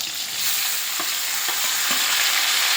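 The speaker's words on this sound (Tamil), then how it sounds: "கொஞ்சம் பூண்டு வெங்காயம் நல்லா வதங்கினதும் தக்காளியை போட்டுருங்க" Garlic and onion sizzle loudly in a pan as tomato goes in for a ridge gourd masiyal. Stirring scrapes come in a regular rhythm about every half second over the continuous frying hiss.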